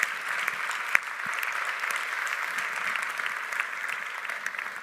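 Audience applause at a talk, a steady wash of many hands clapping at moderate distance, even and sustained throughout with one sharper clap near the start.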